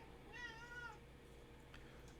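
A domestic cat gives a single clear meow near the start, close and fairly soft, followed by quiet room background.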